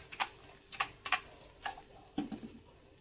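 Asafoetida fried in oil for a mint and coriander chutney tempering, heard as a few sharp, close spoon scrapes and ticks spaced apart over a faint sizzle.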